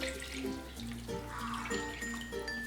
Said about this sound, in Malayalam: കടല കുക്കറിലേക്ക് ഇട്ടിട്ട് കടല നികക്കെയുള്ള വെള്ളം ഒഴിച്ചു കൊടുക്കാം